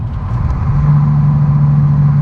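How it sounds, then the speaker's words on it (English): A car fitted with a Venom turbo-back exhaust gives a loud, close, steady deep drone with a low humming note, heard on its own. "the exhaust on this thing, the Venom turbo back exhaust, sounds incredible"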